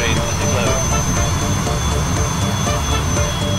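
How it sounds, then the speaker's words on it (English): Steady roar of a Russian jet engine in the FlightGear flight simulator, flying over the Kamchatka mountains, loud and continuous throughout with a constant high whine on top. "I'm flying a Russian jet"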